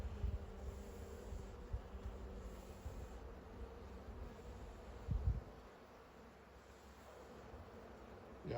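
Honey bees buzzing around an open hive during an inspection, a steady soft drone with a few louder passes close to the microphone, no talking.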